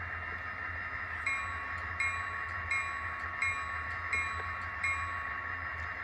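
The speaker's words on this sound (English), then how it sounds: "F1 is the bell." The bell of an Athearn Genesis SD70 model locomotive with an ESU sound decoder dings at a steady, even pace over a low engine drone, sounding soft and electronic.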